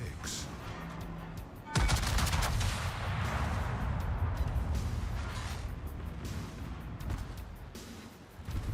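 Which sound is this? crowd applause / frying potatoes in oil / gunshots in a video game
gunshots in a video game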